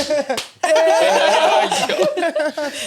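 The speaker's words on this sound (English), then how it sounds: "You guys can all clap as well." Studio podcast audience clapping and cheering close by, a brief slap-like clap at the start, then a loud, dense burst of applause mixed with whoops and laughter, with voices calling out over it.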